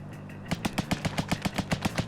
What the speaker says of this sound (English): This is another rapid fire, long distance type of weapon.